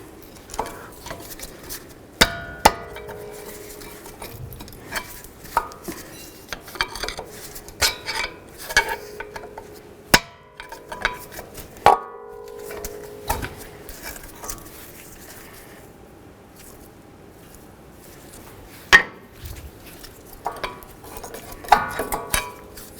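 Front brake pads being worked out of the caliper bracket on a 2009-2020 Dodge Journey give scattered metallic clinks, scrapes and taps, close and fairly sharp, separated by quiet pauses.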